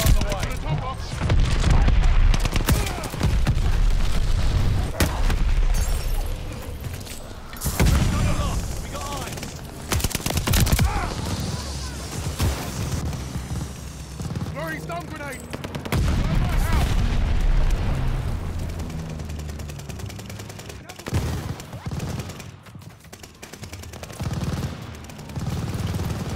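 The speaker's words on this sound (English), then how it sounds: "Teammate called a bombing run." A bombing run in Call of Duty: Vanguard unleashes heavy explosions and bursts of gunfire, loud booming blasts that roll and overlap across the whole stretch, with voices heard amid the battle.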